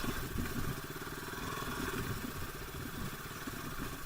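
A motorcycle ridden along a badly broken road toward a waterfall, its engine droning steadily and loud throughout with rattling clatter from the rough surface.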